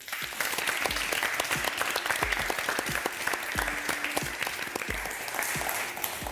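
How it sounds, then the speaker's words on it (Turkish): Studio audience on a cooking competition set breaks into steady, dense applause, a close and continuous wash of clapping with no talk over it. "Alkışlayalım Hüsnü'yü."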